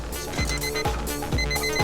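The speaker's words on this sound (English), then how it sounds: "Okay, timer is beeping." A kitchen timer in a busy competition kitchen sounds a repeated electronic beep, pulses coming roughly every half second, loud and close with nothing else over it.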